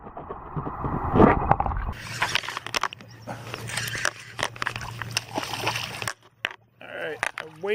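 Boys swim and splash in a tidal river near a bank, irregular sloshes and splatters at moderate distance, with someone talking over them.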